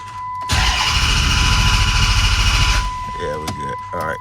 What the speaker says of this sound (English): now I'm about to crank the car over here